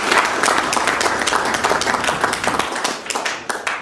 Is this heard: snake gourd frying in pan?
no